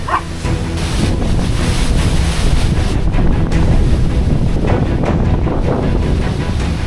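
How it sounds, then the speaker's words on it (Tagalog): Strong mountain wind roars and buffets the microphone continuously, a loud, rough, gusting rush with no voices. "Hindi dali ng hangin eh."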